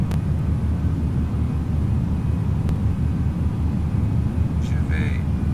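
Engines of an Airbus A320 in the X-Plane 11 simulator hum as a steady low rumble while engine power is reduced in the climb, with someone talking over it throughout.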